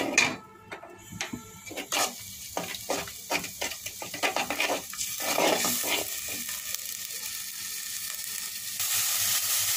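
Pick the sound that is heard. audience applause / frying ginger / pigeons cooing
frying ginger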